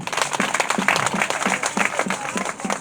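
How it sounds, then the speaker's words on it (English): Applause from an audience at a rural women's rights celebration, steady clapping with a rhythmic pulse running through it, moderately loud and close, with a few voices mixed in. "Let's clap for ourselves."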